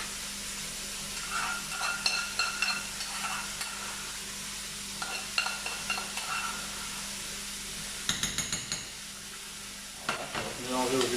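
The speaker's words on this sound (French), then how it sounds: "on va mélanger au jus de la viande et au veau." Cream being stirred into veal and meat juices in a hot pan: a soft sizzle under repeated scraping and clinking strokes of a utensil, with a busier flurry of stirring near the end.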